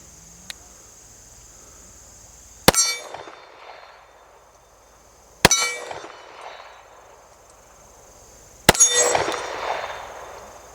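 Kimber 1911 .45 pistol firing 230-grain ball at steel targets: three sharp shots spaced a few seconds apart, each followed by a ringing clang and a decaying echo, with insects chirping faintly in the background.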